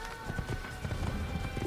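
A horse gallops with a steady clip-clop of hooves in an AC video game set in Damascus, its quick rhythm running under dense game ambience and background noise throughout.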